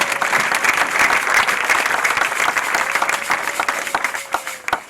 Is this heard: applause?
yes